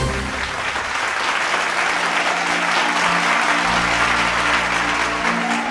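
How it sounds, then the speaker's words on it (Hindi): Loud, sustained applause from a live audience welcoming a Bhojpuri folk singer onto a singing competition stage, a dense continuous clapping roar filling the whole stretch with no talk. "जोरदार ताली के साथ स्वागत कर जाओ बागी बलिया के"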